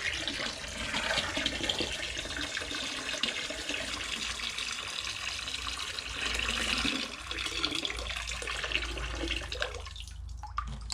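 A gallon of collected rainwater pours steadily into a container, a continuous close splashing that runs on for several seconds and then cuts off near the end, with no talking.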